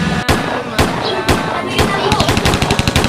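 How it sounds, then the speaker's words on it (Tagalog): Loud, close gunfire cracks out in a residential neighbourhood: several sharp single shots, then a rapid stuttering burst near the end, booming over a noisy background. "Ay, nagbabarilan na naman."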